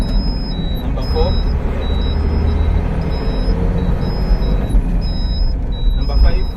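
Tata LPT 1216 truck driving and shifting through its gears, a steady engine drone running throughout with a recurring chime in the background and talk over it.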